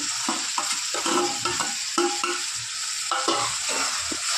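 Tomatoes and softened onions being sautéed in a pan for a dry chicken dish, with close, rhythmic scraping stir strokes over a steady background sizzle.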